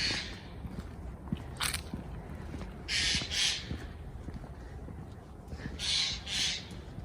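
Birds squabble outdoors on a quiet, cold, windless day in Poland, with several short harsh bursts of calls near to mid-distance, two of them paired, over a low outdoor rumble.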